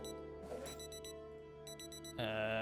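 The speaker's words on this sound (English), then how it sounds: "Turn this alarm off. Too many alarms." Wristwatch alarm going off in Project Zomboid, a rapid repeating electronic chirp sounding in clustered bursts over a droning game background, growing louder near the end.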